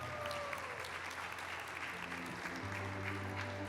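Applause from the audience at the Gourmand food-writing awards ceremony, a soft, distant wash of clapping with a sustained musical tone rising beneath it.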